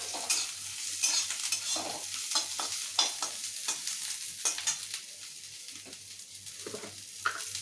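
Chopped vegetables, cashews and raisins sizzling in a pan for poha pulao, a continuous close crackle with frequent short scrapes as a spoon stirs them, no voices.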